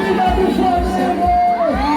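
Flamengo fans at a forró show in Paripueira, a loud crowd roaring steadily over pounding bass beats and blaring music, with shouts rising through the mix.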